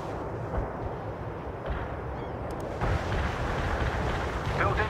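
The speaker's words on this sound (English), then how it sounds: "The barrage was right on target." A World in Conflict artillery barrage rumbles as a continuous low roar of explosions, swelling louder partway through, with faint game voices mixed in.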